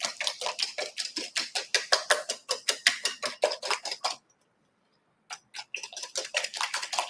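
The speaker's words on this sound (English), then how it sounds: "So I'm going to continue to just whisk." Ingredients including coconut and vanilla are whisked in a bowl, producing a fast, steady run of close, bright clinking strokes that stops for about a second before resuming.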